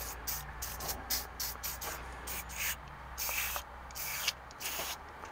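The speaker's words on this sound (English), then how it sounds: "I'm gonna spray those down a little bit with some deep creep." Deep Creep penetrant sprays in repeated short hissing bursts onto the shift shafts of an Eaton RTO 12513 13-speed transmission for a 1984 Freightliner cabover truck, close up, with brief gaps between squirts.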